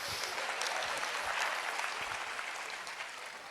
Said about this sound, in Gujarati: ડૉક્ટરને તાળીઓથી વધાવો